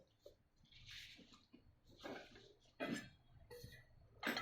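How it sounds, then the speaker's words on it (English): Fresh turmeric pieces washed in water, faint splashing and swishing in short irregular bursts with a few drips, close but quiet, with no talk. "we're going to wash this one"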